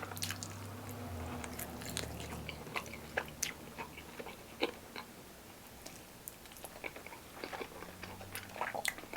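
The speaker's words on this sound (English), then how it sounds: "I'm sorry for all this chewing and stuff" Someone chews garlic naan dipped in chutney, Pakistani food, with soft wet squishes and scattered crisp bites ticking through a quiet room, close to the mic and without talking.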